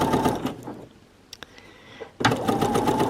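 A domestic sewing machine finishing a seam on a skirt, with backstitching: a close, loud run of fast stitching, a pause with a few clicks, then another burst of rapid stitching.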